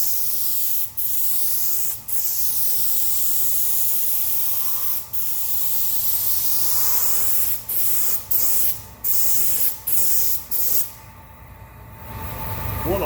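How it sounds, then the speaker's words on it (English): A paint sprayer hisses steadily and loudly while spraying paint in a DIY painting job, a continuous spray broken by short pauses as the trigger is released and pressed again. "I'm not going to show you every little bit of the spray"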